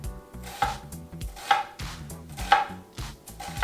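A knife slicing an onion into thin slices on a cutting board, with about five crisp chopping strokes at a steady rhythm, close and clear, with no voices.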